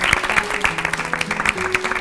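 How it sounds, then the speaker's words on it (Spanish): Audience applause for guests on the Altavoz show, steady dense clapping from a studio crowd that fills the whole stretch, with a faint voice and a low hum running underneath. "Fuerte el aplauso para ellos"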